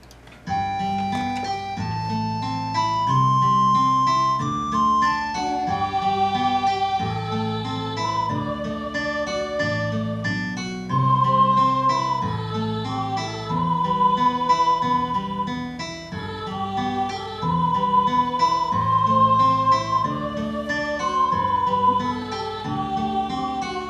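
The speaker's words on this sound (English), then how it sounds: "now let's listen to this with the recorder part added" A MIDI recorder line plays a lilting melody over a full arrangement of sustained chords and a rhythmic bass in a Finale notation program, steady and moderately loud with no talking.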